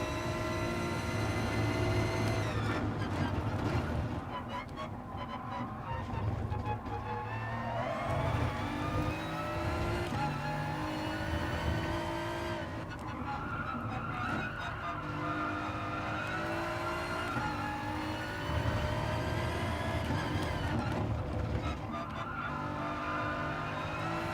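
Racing car lapping the Catalunya circuit in a sim racing game, its engine revving hard through rising and falling gear sweeps with brief tire squeal, close, loud and continuous for over twenty seconds with no talk.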